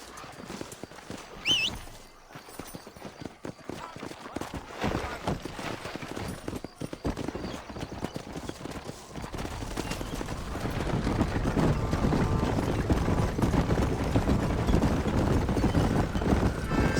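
Horse hooves clip-clop in Red Dead Redemption, starting as scattered steps and building into a steady, faster rhythm of hoofbeats, with a brief whinny early on and game voices speaking over it.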